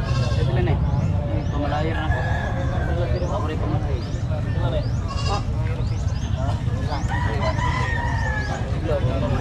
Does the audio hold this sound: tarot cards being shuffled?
no